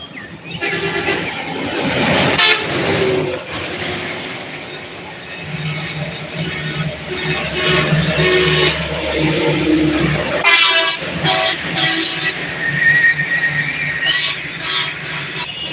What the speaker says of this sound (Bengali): রাস্তাতে গাড়ি যাচ্ছে প্রচুর গাড়ি গাড়ির ইঞ্জিনের আওয়াজ হরেনের